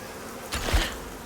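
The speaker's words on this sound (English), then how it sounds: "More bees. We love bees." Buzzing bees in the stealth game Styx, a brief swelling insect drone that rises and fades within about a second, heard alone without talk.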